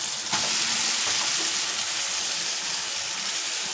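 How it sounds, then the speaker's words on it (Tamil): Drumstick leaves dropped into a hot frying pan, a sharp burst of sizzle and crackle followed by steady loud frying, no voices. "இந்த ஸ்டேஜில் முருங்கைக்கீரை போட்டுக்கிறேன்."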